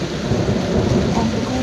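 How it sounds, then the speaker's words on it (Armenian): Thunder rumbles low and steady through a rainstorm, blended with a broad hiss of rain falling on surfaces, loud and continuous without voices. "ամպը գոռում է"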